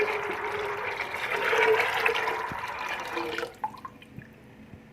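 Water poured from a one-litre jug into a pot of black chickpea curry, a steady rushing gush lasting a few seconds before trailing off into scattered drips and splashes.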